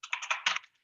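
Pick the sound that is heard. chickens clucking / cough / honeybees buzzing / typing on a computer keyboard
typing on a computer keyboard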